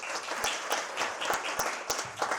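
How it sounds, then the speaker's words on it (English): An audience at a school poetry slam event applauds the teachers, a dense, steady burst of many hands clapping close by with sharp individual claps standing out. "Let's give them a round of applause."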